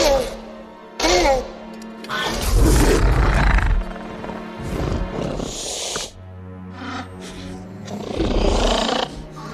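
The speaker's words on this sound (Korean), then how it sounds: "영화의 긴장과 공포감을 더욱 증폭시켰던 벨로시랩터의 기괴한 울음소리." A fictional velociraptor cry from a film, built by mixing dolphin, walrus, goose and crowned crane sounds: repeated harsh shrieks, hisses and roaring bursts, loud and close, rising and falling over several seconds.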